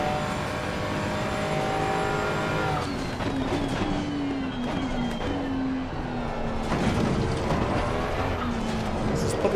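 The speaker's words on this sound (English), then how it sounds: "the Ferrari just drifting" A Ferrari race car drifts around Spa-Francorchamps in a racing video game, its engine whining loudly with gear shifts and rising and falling pitch as tyres slide.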